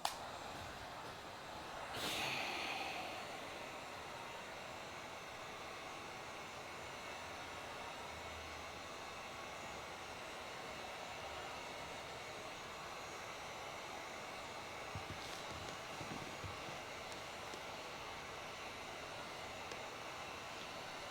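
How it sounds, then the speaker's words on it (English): A heat gun blows steadily on fresh paint during a Crew Cab Charger restoration, a constant airy hiss holding at even loudness throughout, with a brief louder burst near the start. "now I get my heat gun to get this to get the paint to warm up and dry"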